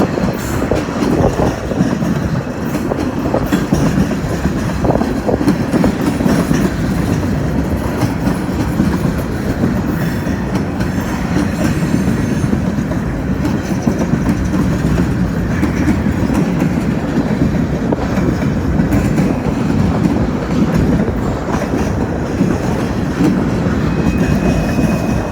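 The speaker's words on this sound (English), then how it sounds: "Let's have the majority of the train around the curve." A long freight train rolls around a curve, loud and close, with continuous wheel rumble and clattering over the rails that holds steady throughout, and wind noise mixed in.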